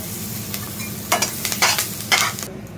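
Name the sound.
cumin seeds and green chilli sizzling in hot oil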